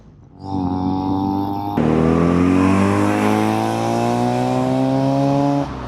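A 1980 Mazda RX-7's rotary engine revs up past 4,000 RPM and holds a loud, rising, steady howl for several seconds before easing off, with no voices.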